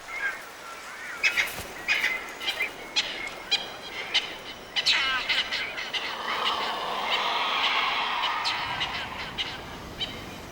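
Cape vultures at cliff nest sites in Botswana give a run of harsh, honking calls and squabbling cackles, close and busy, rising into a louder sustained chorus near the end.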